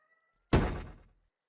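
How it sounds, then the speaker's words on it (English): A single dull thunk of a weight dropping in a seesaw simulation, a sharp hit that fades quickly into quiet, alone. "when we click, the weight will drop and with the drop sound"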